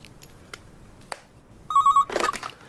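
A telephone rings in a radio drama, a sharp electronic warble that starts late and comes in two loud bursts after a stretch of faint clicks and near-silence.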